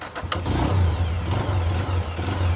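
A car engine runs close by with a steady low drone and rises briefly as it is revved, then settles again, with no talking over it.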